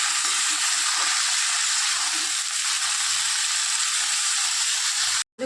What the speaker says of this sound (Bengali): এবারে একটুখানি ভালো করে আলুগুলোকে লাল লাল করে ভেজে নেব।